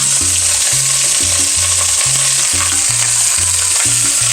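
Meat sizzles loudly and steadily in a Dutch oven before braising, a dense, close crackling hiss with a regular knocking rhythm underneath from stirring or pieces being moved in the pot.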